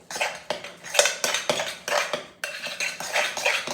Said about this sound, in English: Taste it after we stir it up.